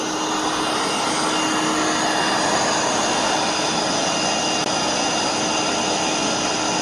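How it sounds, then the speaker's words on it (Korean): Steady, loud broadband whoosh of an electric air blower running continuously, blowing air at a window to test for drafts, with a constant motor hum and no pauses or voices. "자, 그러면 송풍기를 켜고"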